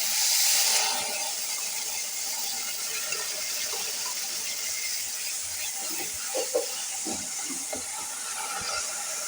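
Peanut paste hits a hot pan with a loud initial hiss that settles into a steady sizzle, with a few soft scraping knocks from stirring.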